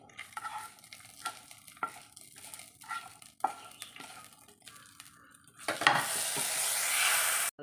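Coconut with a teaspoon of chili powder roasts in a pan. Soft scraping stirs and crackles come first, then a louder, brighter sizzle swells near the end, with no talking.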